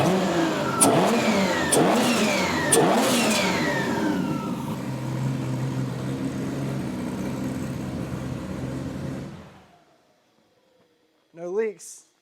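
A Honda Fit engine revs sharply several times, rising and falling in quick blips near the microphone, then settles into a lower drone before cutting off; a voice speaks briefly at the end.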